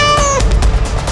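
Kittens meowing in a Hindi cartoon comedy, a high thin cry with clear rising harmonics in the first half, then a busy noisy soundtrack.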